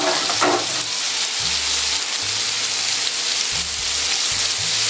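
Carrots, onions and turnips fry in a pot for a braised pork belly and vegetable stew, giving a steady loud sizzle with occasional stirring and clatter throughout.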